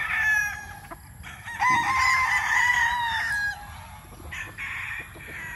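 A Yellow Legged Hatch gamefowl rooster crows loudly and close at a game farm, one long drawn-out crow followed by shorter clucking calls.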